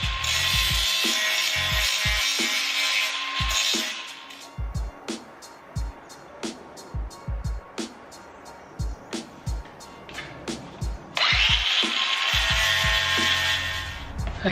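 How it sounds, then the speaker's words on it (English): A power tool cuts steel pieces to a traced shape: loud bursts of harsh high cutting at the start and end, with a run of sharp, evenly spaced knocks and clatter in between. "trace around it and then cut the steel to the shape that I want."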